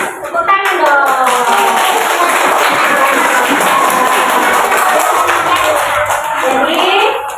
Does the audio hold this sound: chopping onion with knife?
no